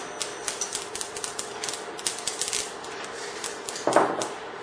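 Mustard seeds popping in hot oil in a pan, a rapid scatter of small crisp ticks and crackles at close range, with a brief louder sizzle burst near the end.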